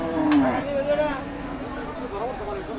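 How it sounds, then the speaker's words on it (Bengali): A cow lets out a loud, drawn-out moo nearby, followed by a softer low call, amid faint crowd noise at a cattle market in Kaitla, Mirzapur, Tangail, Bangladesh. "বড় গরুগুলো দেখেন"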